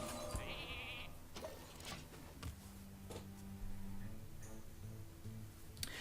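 In Hearthstone, the Polymorph spell turns a minion into a sheep with a short bleat amid game sound effects, faint ticking and brief tonal chimes, quiet and without talk.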